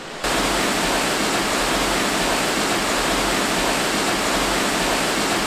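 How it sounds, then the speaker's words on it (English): A steady, loud roar of water falling from the 130-foot Dingmans Falls, Delaware Water Gap, Pennsylvania, fills the scene continuously, broad and rushing with no pauses or voices. "We have made it to Digman's Falls."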